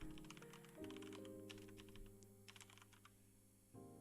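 Keys on a computer keyboard tap in quick bursts with short pauses, as if typing a short phrase, heard close and quiet over a steady electronic hum, with no one speaking.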